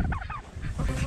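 Poultry calls out in a few quick, throaty clucks and squawks close by, brief bursts over a low rumbling background.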